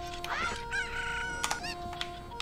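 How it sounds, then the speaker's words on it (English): Chicken in a Zelda: Ocarina of Time randomizer gives a burst of clucking and crowing-like squawks with some sharp game sound effects, near and alone. "the darn chicken got in the way"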